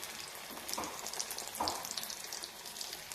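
Batter-coated potato vada balls fry in hot oil, giving a faint, steady sizzle with soft crackles throughout and no talking.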